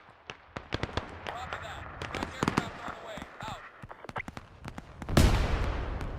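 Ordnance explosions in a video game come as a rapid run of sharp, loud cracks and pops, then a heavier booming blast near the end, with a voice talking over parts of it.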